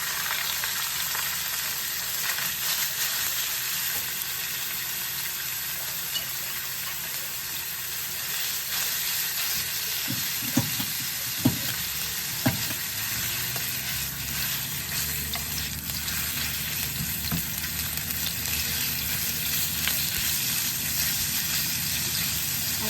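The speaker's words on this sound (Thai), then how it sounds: "กระทะก็ตั้งเรียบร้อยนะแล้วก็จะเอาหมูสับลงรวนเลยนะ" Minced pork sizzles steadily in a hot pan, a continuous loud frying hiss with a few scraping stirs partway through.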